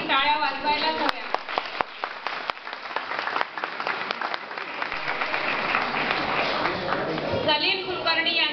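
Audience applause for a woman's performance at a stage event, starting after a brief voice and swelling into dense, sustained clapping from a crowd before a voice returns near the end.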